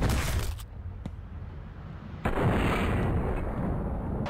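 Enemy gunfire in the video game Delay as foes shoot at each other: a sharp burst, then a short lull, then a loud, sustained barrage of crackling shots and booming blasts.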